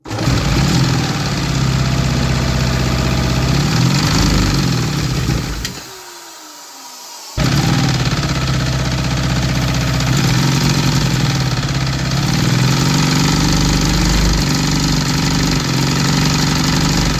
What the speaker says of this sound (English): Now there we go, guys. An inline 2-stroke engine.